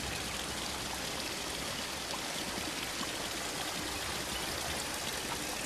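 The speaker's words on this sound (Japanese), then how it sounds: "もうちっちゃい滝という感じになりますね。" A small waterfall in a forest pours in a steady, even rush of water that continues throughout.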